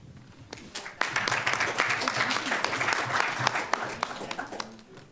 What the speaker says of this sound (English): We have given applause to everyone